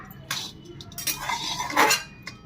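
Carrots poured into a metal colander in a home kitchen, giving a rattling, clinking tumble of pieces against the metal that swells toward the end, close by and with no talking.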